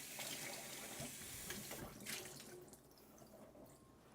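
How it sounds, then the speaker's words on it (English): Tap water runs steadily onto a pan greasy from bacon as it is rinsed in a kitchen sink, a close, even rush with faint splashes and no talk. "I think I'm gonna rinse this one because I want to rinse it."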